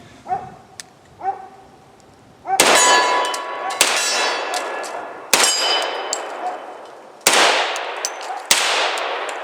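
FNX 45 pistol rounds strike a steel swinger target, giving about six sharp metallic clangs at uneven intervals with ringing decay, preceded by a few softer dog-like yelps.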